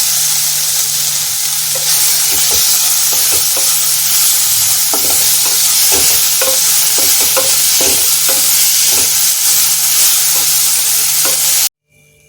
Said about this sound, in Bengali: এবার আমি এর মধ্যে টমেটো কুচিটা দিয়ে দিচ্ছি। রসুন আদাটা আমি ছিঁচে নিয়েছি, এর মধ্যে দিয়ে দিচ্ছি।